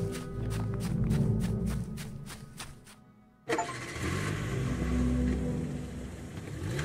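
A car engine in the horror game Welcome To Kowloon starts up and idles with a low steady rumble, cutting out briefly before restarting and running loudly and continuously, with no voices.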